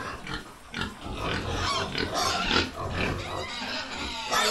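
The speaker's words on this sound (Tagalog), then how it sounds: "So, ito guys ang ating mga baboy." Pigs in a netted piggery grunt, squeal and oink continuously, a busy close chorus with louder bursts throughout and no talk over it.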